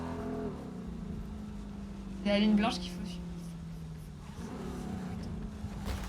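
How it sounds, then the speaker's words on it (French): A stolen police car driving in Cyberpunk 2077, its engine humming steadily and faintly in the background while a person speaks over it. "J'ai volé une voiture de police."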